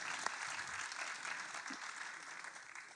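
Faint, distant applause from an audience, a steady wash of many hands clapping at low volume throughout.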